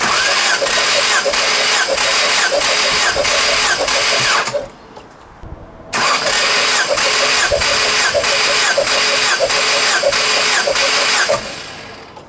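A Ford Focus RS MK1 engine cranks on the starter with the throttle held wide open during a compression test. The loud, steady churning whir runs close, stops briefly, then cranks again for several more seconds.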